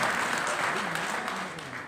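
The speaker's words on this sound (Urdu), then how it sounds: "اگر تھوڑا قابو کریں اور تالی نہ بجائیں تو میں بہت مشکور ہوں گا" An audience applauds during a speech in Urdu about the India Islamic Cultural Centre, producing dense, steady crowd clapping that fills the whole stretch and eases slightly toward the end.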